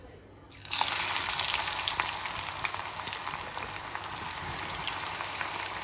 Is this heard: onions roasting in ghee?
yes